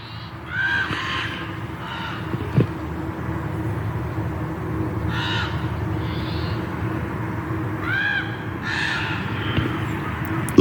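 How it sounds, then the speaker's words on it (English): Two crows cawing loudly at about 6:30 on a Wednesday morning near Mt. St. Helens, repeated harsh calls in irregular bursts over a constant low background hum, close and prominent. "Listen to these 2 crows."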